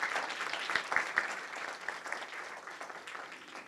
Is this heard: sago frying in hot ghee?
no